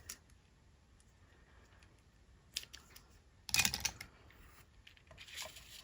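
Scissors snip paper for a daffodil greeting card, with a few faint clicks and then one louder, brief cutting crunch up close in an otherwise quiet space.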